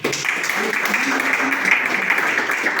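Church congregation applauding, a dense, continuous patter of many hands clapping with voices mixed in underneath.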